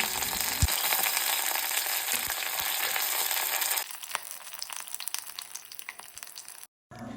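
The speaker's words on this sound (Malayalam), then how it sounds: "ഒരു പാൻ വെച്ച് ഒത്തിരി വെളിച്ചെണ്ണ ഒഴിച്ച് കടുക് പൊട്ടിച്ച് വേപ്പിൻ്റെ ഇല ഇട്ട് കൊടുത്ത്" Mustard seeds splutter in hot coconut oil during tempering for a beetroot pachadi, giving a dense close sizzle with scattered sharp pops. The sizzle drops to a quieter crackle partway through and cuts out briefly near the end.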